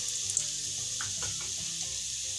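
Curry leaves and sesame seeds dropped into hot oil with cumin, giving a faint, steady sizzle and light crackle with a few small pops, no voices.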